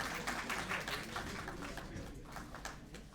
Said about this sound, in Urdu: تالی والی تو بجائے آپ لوگ۔